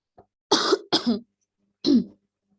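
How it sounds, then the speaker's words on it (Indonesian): A person coughs close up: a faint catch, then two quick harsh coughs and one more after a pause, with quiet between. "Saya batuk-batuk lagi begini."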